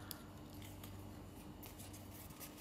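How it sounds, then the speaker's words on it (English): Scissors snipping out the black sections of a paper Lord Ganesha printout, with faint, close cuts over a quiet room hum and no talk. "In the same way, cut all the other black sections."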